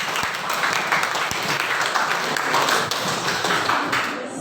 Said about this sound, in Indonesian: Berikan tepuk tangan yang meriah untuk paslon nomor urut 2.